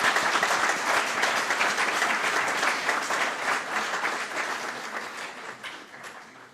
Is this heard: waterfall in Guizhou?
no